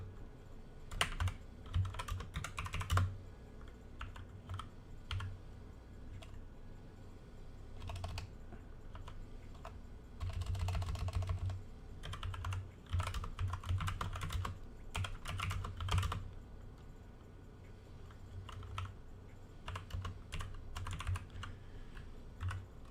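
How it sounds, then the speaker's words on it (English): Keystrokes on a computer keyboard tap away in quiet irregular bursts over a low steady hum, with clusters of rapid clicks separated by short pauses, close and fairly soft throughout. "You hear the keystrokes, you know I'm typing."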